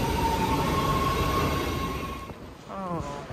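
Los Angeles metro train, a loud sustained rumble with a thin whining tone that fades out, followed by a brief voice.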